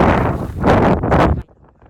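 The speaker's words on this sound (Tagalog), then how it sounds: "Dahil bukod sa umuulan ng yelo, sumasabay rin ang malalakas na hangin." Strong wind in an Arctic hailstorm roars and gusts loudly against the microphone in two heavy surges, then drops away abruptly to a faint rumble.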